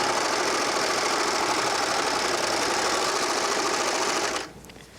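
A Baby Lock serger runs fast, stitching and trimming fabric with a continuous loud mechanical whir that stops abruptly near the end, close up and without speech.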